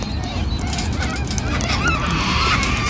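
A pet cockatoo gives harsh, honking calls that repeat and overlap, loud and close. It keeps up for the whole stretch against a busy indoor background.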